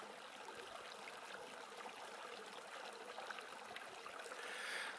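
A river near Bachawy heading toward the Wye flows steadily as a broad, even wash of water, a continuous rushing and trickling close by with no voices.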